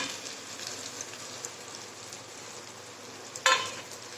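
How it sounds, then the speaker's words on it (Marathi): Ginger being dry-roasted in a pan while cooking a raw mango and green chilli thecha, giving a faint steady sizzle and crackle throughout, with one brief louder clatter near the end. "आलं आता हे चांगलं भाजून घेते मी"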